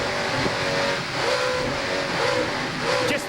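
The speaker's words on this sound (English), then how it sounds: "Just listen to the revs." Offshore racing powerboat engines from a 2001 Super Series race roar loud and close in a sustained revving drone, the pitch rising and falling in waves.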